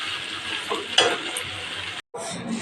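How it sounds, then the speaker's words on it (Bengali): Potatoes sautéing together in a home kitchen pan, steady sizzling frying with stirring scrapes and a brief clank near the middle, cut by a short gap. "আমি এগুলোকে সব কটা একসাথে দিয়ে কষিয়ে নেব"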